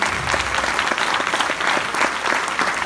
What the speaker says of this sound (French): Je vous demande d'applaudir très très fort Marie-Zélène Malraux.